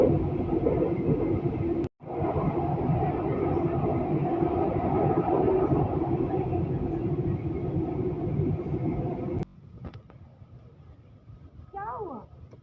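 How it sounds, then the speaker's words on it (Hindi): A metro train pulls into a station platform, a loud steady rumble and rush for several seconds that cuts off abruptly, followed by quieter station ambience and a brief voice. "नाउ मेट्रो इज़ कमिंग, आ चुकी है मेट्रो"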